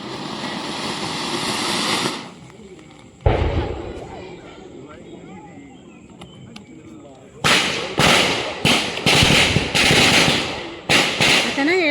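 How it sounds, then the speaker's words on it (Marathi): Firecrackers going off during a Ganesh idol immersion procession in Konkan, heard as a loud burst early on, then a rapid string of sharp cracks toward the end, with voices and crowd noise in between. "फटाके लावतायत"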